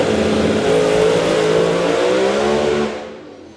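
A drag racing car launches during a qualifying session, its engine roaring loud and close in a sustained rising blast before quickly fading away in the last half second.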